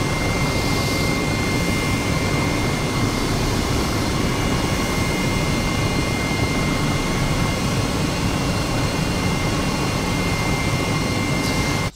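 A helicopter flies low over an old WWII seaplane airfield at Pembroke Dock, its engine and rotors making a loud, steady drone that holds without a break for the whole stretch, with no voices.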